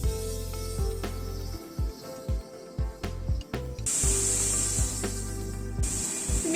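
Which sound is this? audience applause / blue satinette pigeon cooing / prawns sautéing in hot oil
prawns sautéing in hot oil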